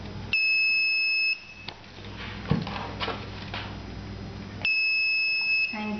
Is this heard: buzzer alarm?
yes